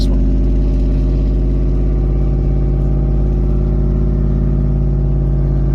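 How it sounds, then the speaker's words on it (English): Nissan exhaust heard from inside the vehicle while driving fast through snow, a loud, continuous droning engine and exhaust rumble that holds steady throughout. "You can hear that amazing exhaust sound."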